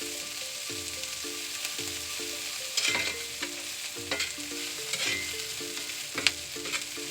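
Mushrooms cook down in a pan with a soft continuous sizzle and occasional stirring clicks, accompanied by a steady repeating background hum.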